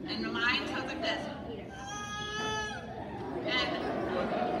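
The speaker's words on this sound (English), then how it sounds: "So my bassoon is longer than the oboe." A bassoon, a double-reed woodwind, plays a sustained tone around the middle of the passage amid a noisy crowd of chattering voices, with a few other brief tones and talk around it.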